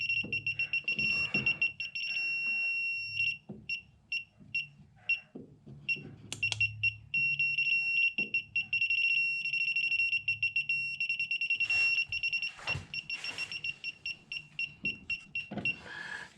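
An electronic device emits rapid, high-pitched beeps in quick pulsing bursts, with faint handling noises and a voice in between.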